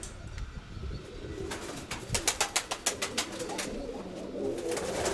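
Pigeons, including a black one, coo near their nest in light rain, a soft series of rhythmic coos rising in the middle, close by over a steady patter of rain.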